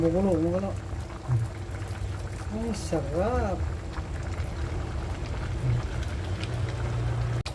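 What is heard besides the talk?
stew boiling in pot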